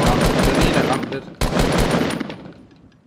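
Dense rapid-fire gunfire from the video game Fortnite rattles loudly in two sustained bursts, the second trailing off into quiet.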